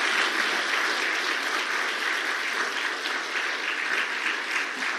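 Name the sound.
applause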